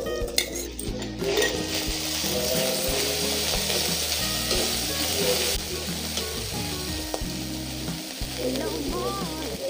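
Ground spices, ginger-garlic and onion paste sizzle loudly in a pan for a Bengali sea fish curry, with steady frying crackle under repeated stirring scrapes and occasional utensil clinks, close and continuous.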